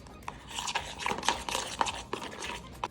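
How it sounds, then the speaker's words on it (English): Salted caramel being stirred into cheesecake batter in a bowl, a soft, close scraping and swishing with irregular strokes and a few light clinks of the utensil, quiet and without talk. "And then you're just gonna stir the salted caramel in."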